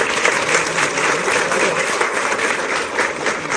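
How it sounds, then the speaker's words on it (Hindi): Sustained applause from a seated audience at a foundation-stone ceremony for a data centre in Ghaziabad, a dense even patter of many hands clapping for several seconds with no voices over it. "एक बार फिर तालियों के साथ"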